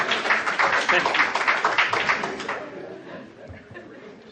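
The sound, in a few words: audience applause at a candidates forum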